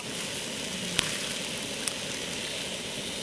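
Eggs fry in oil in a non-stick pan over a campfire outdoors, a steady dense sizzle and crackle throughout, with two sharp pops standing out.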